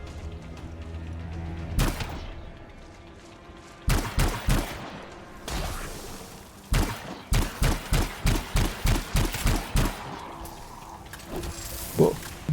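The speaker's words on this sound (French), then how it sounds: "Ça c'est mon fusil de précision." Sniper rifle shots in Anthem, loud sharp reports fired in irregular bursts, first a single crack, then a quick cluster of four, then a rapid string of about ten, with mechanical clatter and ambient game sound between.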